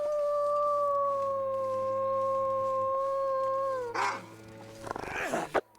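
A wolf in the survival game The Long Dark howls one long, loud, steady tone that wavers slightly and fades, followed by scuffling rustles and a sharp close knock at the end.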